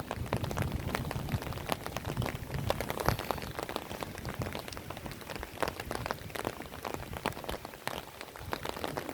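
Rain falls on a cool evening in Upper Pelling, a steady, dense patter of drops on nearby surfaces that continues evenly throughout with no talking.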